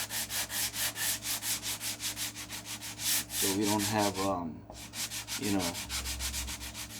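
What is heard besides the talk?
light sanding of a wooden seam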